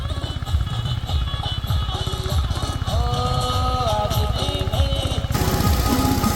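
A small tractor engine chugs steadily at close range while loud music with a melody plays over it throughout.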